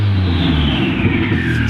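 A Toyota RA40 Celica with a small CT20 turbo engine revs loudly and close by, a strong rumbling engine note with no talking.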